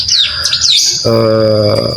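Mountain ciblek, a prinia songbird, giving a brief loud sequence of chirps and sweeping whistles followed by a held buzzy note, close and alone.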